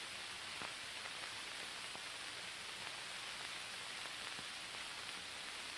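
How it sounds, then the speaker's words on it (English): Torrential rain pours steadily on open land, a dense, even hiss with faint scattered drops, constant and unbroken throughout, with no voices. "Torrential rains cut deep gullies, washing away the soil and destroying the growing power of the land."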